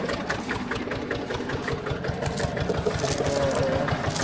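An old Porsche Junior 108 tractor engine idles in the snow with a fast, even chugging pulse that wavers slightly as it settles, steady and close throughout.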